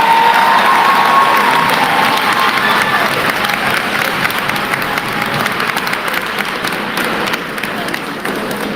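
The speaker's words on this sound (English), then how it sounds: "please give Mr. Earl Lucas Jr. another round of applause" A graduation crowd of graduates and families claps and cheers in a large venue, the dense ovation starting loud and easing slightly over about nine seconds, with scattered shouts inside it.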